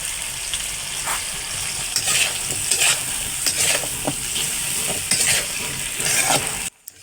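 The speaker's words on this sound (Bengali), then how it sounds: "এইবার এখানে সুন্দর করে নাড়াচাড়া করে নিতে হবে" Potatoes being stirred in hot oil in a pan for a Bengali hilsa curry with potato and eggplant, giving a steady close sizzle with scraping spatula strokes every second or so, cutting off abruptly near the end.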